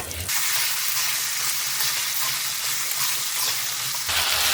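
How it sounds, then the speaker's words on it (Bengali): Cubed potatoes and asafoetida fry in hot oil in a pan for a vegetarian potato and pea curry, giving a steady, loud, close sizzle that runs the whole time with no talking. "এখন আমি হিং দিচ্ছি। এখানে আমি আলুটাকে কেটে নিয়েছি।"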